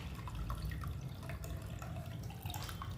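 Water draining through a strainer as soaked split urad dal is rinsed, soft dripping and trickling close by over a low steady wash, fairly quiet and without speech.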